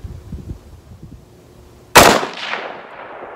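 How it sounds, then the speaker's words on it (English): A single cold-bore rifle shot fired at a bullseye target on a range, with a sharp loud crack followed by a decaying echo, after a few quiet handling sounds. "that was the first shot cold bore."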